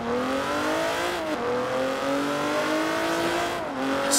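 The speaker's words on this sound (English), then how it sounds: "Love the crackles from the exhaust." A high-performance Alfa Romeo Stelvio Quadrifoglio SUV in the Forza Horizon racing game revs hard and shifts up through its gears, the engine note climbing and dropping in steady sweeps, with exhaust crackles, loud and continuous, with no talk.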